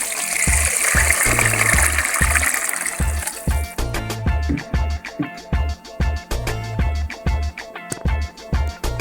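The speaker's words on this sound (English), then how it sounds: "Adding some water to the pot." Water poured into a cooking pot for Jamaican seasoned rice, a loud gushing splash at first, then a pulsing stream under a rhythmic beat of background music.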